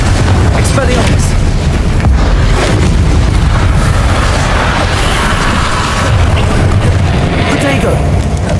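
Spell blasts from Hogwarts Legacy combat, fire and explosive charms, give loud continuous booming bursts and crackling impacts, with a voice talking over the steady clamor.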